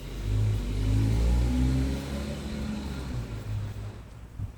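A 2011 Toyota Camry engine with a stalling and lifter issue revs hard under throttle, loud and close, its low rumble swelling and easing over several seconds with no voices.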